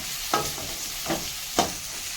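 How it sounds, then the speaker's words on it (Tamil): Dried red chillies fry in a pan under a steady soft sizzle, with three distinct spatula scrapes about every three-quarters of a second. "இப்போ வரமிளகா போட்டு நல்லா வணக்கிக்கணும்"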